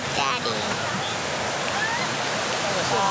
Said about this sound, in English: The waves are huge here for us.